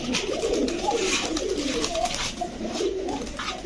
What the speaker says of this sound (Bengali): এটাও রাজশাহীর কবুতর।